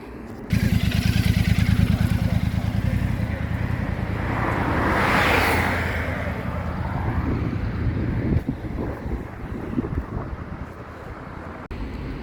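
A Royal Enfield motorcycle starts moving and rides off, its steady engine thrum under heavy wind buffeting on the microphone, fairly close before thinning out.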